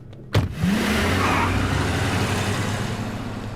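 A car engine revving hard as the car pulls away, a sudden thump then a steady loud rising roar that holds and slowly fades, close by with no talk.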